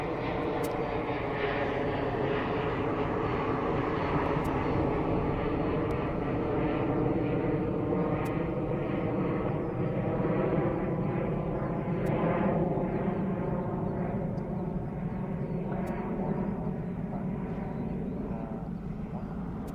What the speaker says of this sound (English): that aircraft certainly gained some height by the time it got to us